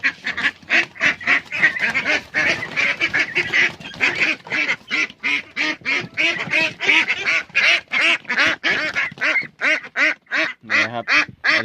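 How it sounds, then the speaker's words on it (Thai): A young male laying duck, still growing, gives hoarse, raspy calls in a rapid, steady series, loud and close by, with no voices over them. "ถ้าเสียงแหบอย่างเงี้ยจะเป็นตัวผู้นะครับ"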